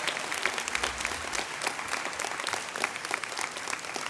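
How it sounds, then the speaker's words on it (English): Sustained applause from a university awards audience honoring student leaders at a leadership awards program, a dense, steady wash of many hands clapping with no speech over it. "So how about one more round of applause for these extraordinary, amazing, phenomenal student leaders."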